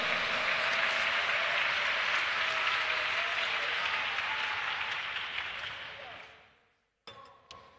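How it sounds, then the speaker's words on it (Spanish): A church congregation gives loud, sustained applause that fills the room, then gradually fades out to near silence, with a couple of faint clinks at the end. "Alguien aplauda fuerte al Rey de Reyes y Señor de Señores"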